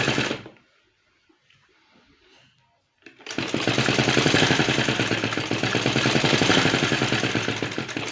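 A sewing machine stitches trouser seams. A short burst is followed by a near-silent pause, then a loud, fast, continuous mechanical whir that runs steadily to the end.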